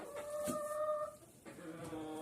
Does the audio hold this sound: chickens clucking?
yes